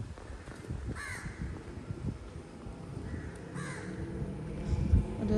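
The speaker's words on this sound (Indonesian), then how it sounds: "burung gagak." Crows caw in a city setting in Singapore, two clear rounds of harsh calls about two seconds apart over steady low outdoor rumble and traffic noise.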